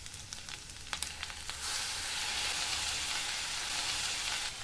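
Potato vegetable sautéing in hot peanut oil, a few stirring clicks at first, then a steady loud sizzle that fills the rest of the stretch.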